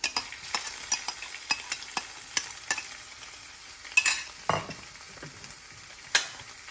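Drained spinach leaves hiss quietly in a hot pan while a spatula taps and scrapes in a steady rhythm, with a few louder knocks.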